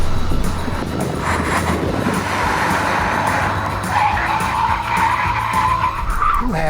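A Korean electric car understeers through a long turn on a test track, its tires skidding and squealing in a continuous loud scrub over steady road and motor noise.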